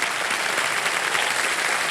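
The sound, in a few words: studio audience applause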